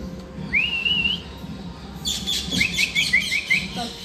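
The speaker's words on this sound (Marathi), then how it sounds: "इकडे बघा पोपट कुठे आहे समोर, हे बघा पोपट आले इथं." A parrot outdoors at night lets out a rising whistled call, followed by a run of several quick, sharp chirps. The calls sound fairly close over a low background hum.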